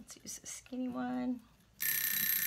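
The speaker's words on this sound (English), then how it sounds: "Oops, there's my timer." A timer alarm goes off with a loud, steady electronic ringing during a no-sew fabric craft session, cutting in right after a brief stretch of talk.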